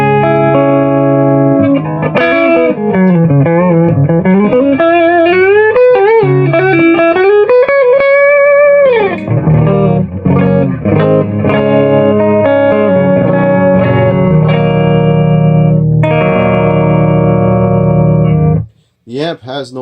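Electric guitar on the neck pickup, played straight into a Marshall Origin 50W head with no reverb, carries a continuous run of bent notes and chords, loud and close, before cutting off near the end.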